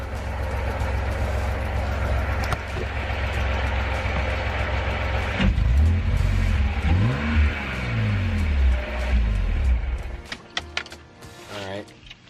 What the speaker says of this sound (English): I guess let me rev a couple times.